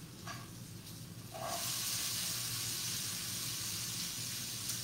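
Apples and onions hit a hot pan and begin to sizzle, a soft steady hiss that jumps louder after a second and keeps on evenly, with a few faint clinks before it.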